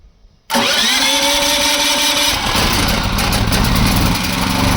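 Champion 7 kW dual-fuel gas and petrol generator starting on gas: the engine catches abruptly after a brief quiet moment, then runs loud and steady close by.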